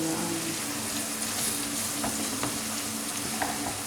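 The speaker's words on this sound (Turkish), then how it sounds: "Şimdi bunu biraz kavuracağım." Tomato paste sautéing in a pan for kısır, a dense, steady close sizzle with occasional light stirring taps, no talking.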